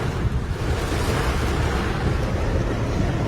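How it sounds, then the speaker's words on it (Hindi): Sudden heavy rain pouring down in a Karachi street, a steady dense roar of water with wind-like rushing noise, loud and continuous without a break, no voices heard. "धुआंधार तेज तरीन बारिश जो है वो शुरू हुई अचानक से"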